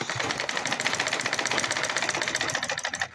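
A sewing machine top stitching a belt strap onto a fabric gift bag runs steadily throughout, a fast, even, close mechanical clatter of needle strokes with no talking.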